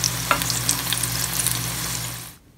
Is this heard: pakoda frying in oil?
yes